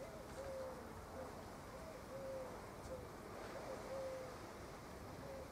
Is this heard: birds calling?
yes